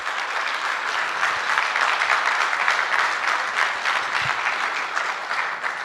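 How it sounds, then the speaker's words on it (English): A gala audience claps steadily for a speaker being welcomed. The applause is sustained and even from start to finish, with no talking over it. "A round of applause, please."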